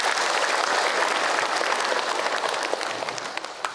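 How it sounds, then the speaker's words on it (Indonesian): A room full of people applauding during an Islamic religious lecture, dense, continuous clapping that holds steady and loud, then tapers slightly toward the end. "Tepuk tangan untuk kita semua."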